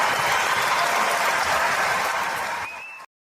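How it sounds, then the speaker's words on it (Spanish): Concert audience applauding, a dense, loud wash of clapping that holds steady for about three seconds, then stops abruptly and leaves silence. "Ese sonido de los aplausos de la gente, si lo escuchan con auriculares, cascos, audífonos, diademas, como le quieran llamar, se escucha impresionante."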